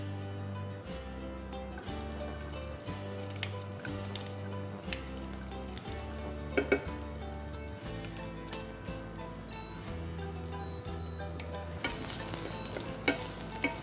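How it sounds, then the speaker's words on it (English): Ginger and garlic sizzle and fry in hot oil in a pan while being stirred, a steady crackle running throughout beneath rhythmic background music. "once the oil heats up, I'm going to add the ginger and the garlic just to remove the rawness from that"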